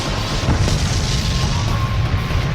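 A huge Tail Beast Bomb explosion from a Naruto vs Ichigo animated battle: one sustained, roaring blast with a heavy low rumble and a hissing wash that stays loud and close throughout.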